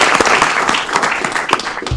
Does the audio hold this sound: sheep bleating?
no